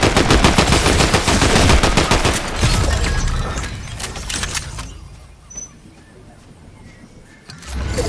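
Pistol fire in Fortnite, a long run of sharp, evenly spaced shots, loud and close, that thins out into quieter game ambience before another loud burst at the end.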